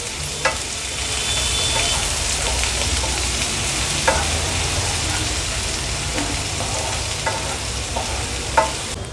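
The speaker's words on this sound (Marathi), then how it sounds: "आलं लसूण क्रश ऍड केल्यानंतर लो फ्लेमवर ह्याला छान आपल्याला परतून घ्यायचं आहे तेलावरच" Ginger-garlic paste fries steadily in oil over a low flame, a continuous soft sizzle with a few light stirring knocks and scrapes, close and without voices.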